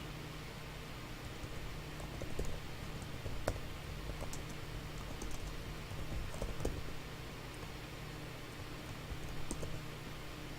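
Quiet clicking of keys typed on a computer keyboard into a calculator, light irregular taps over a steady background hiss, with no talking.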